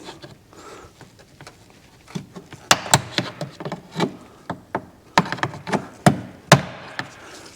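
Bolts and parts are pulled from the intake opening of a late-model GM truck, making a series of sharp metallic clicks, taps and knocks at an irregular rhythm, close and moderately loud over quiet background.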